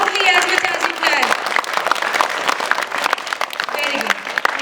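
Audience applause at a school English poem recitation competition, steady dense clapping from a crowd that fills the whole stretch, with children's voices and a few shouts mixed in.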